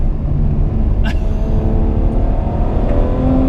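A Ferrari 812 Superfast V12 drones loudly under hard driving on the Fiorano circuit, a deep cabin rumble with a brief sharp burst near one second that could be a gearshift.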